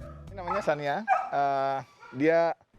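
A rescued dog yelps and whimpers up close in a few high, wavering cries with short gaps between them.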